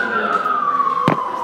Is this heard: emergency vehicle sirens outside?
yes